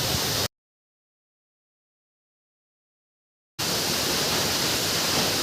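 Waterfall at Coban Talun, heard as steady broadband roaring water noise, loud and continuous, cut by a stretch of dead silence in the middle before the rushing resumes.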